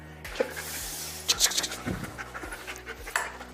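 Army explosives detection dog panting close by, rapid rhythmic breaths in short bursts over a low mechanical hum and outdoor background noise, with no speech.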